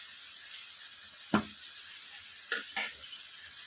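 Spices fry with tomato in a pan during a vegetarian potato curry, giving a soft, quiet sizzle. A few sharp scrapes of stirring cut through, one near the start and two close together later.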